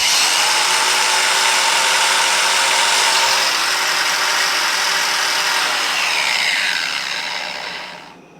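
A DeWalt 20-volt cordless angle grinder runs with a steady high-pitched whine for about seven seconds, close and loud, then spins down and fades toward the end.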